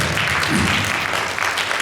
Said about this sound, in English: Y'all give her a big round of applause.